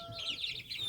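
Young hens with a rooster among them, a short burst of close, high clucking and chirping from the chickens with no talk.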